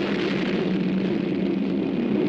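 Explosions blocking a train tunnel in a film: a dense, steady roar of blast and rumble, loud and broadband, sustained without pauses for a couple of seconds.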